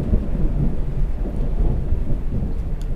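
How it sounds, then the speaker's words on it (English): Deep, continuous rumbling thunder rolls steadily throughout, a heavy low-frequency roar with steady rain hiss beneath it and no clear breaks. "Strong thunderstorms."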